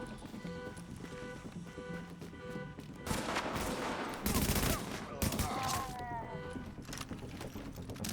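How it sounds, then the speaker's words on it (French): Bursts of a silenced submachine gun fire in The Division, quiet and muffled, with several rapid volleys clustered midway through over a low game soundscape. "Elle est bien la mitraillette là, avec le silencieux et tout maintenant là, ça déconne plus là."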